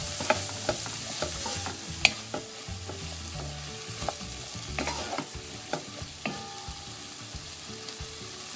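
Potatoes and eggplant sizzling in a pan for a salmon curry, with a spoon stirring and scraping in irregular clacks over a steady frying hiss.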